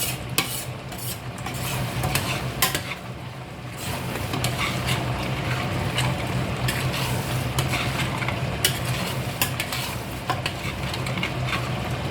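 Bolognese sauce cooking in a pot, giving a steady close bubbling and sizzling wash with scattered utensil clinks and stirring scrapes throughout, no voices.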